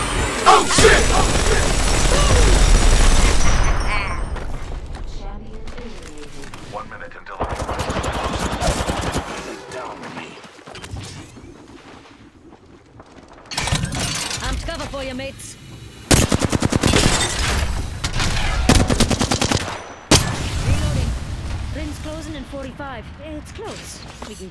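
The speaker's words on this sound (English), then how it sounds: "They're shooting at me." Heavy automatic gunfire in the video game Apex Legends, with loud rapid bursts and sustained volleys that come and go in waves, mixed with a player talking over the action.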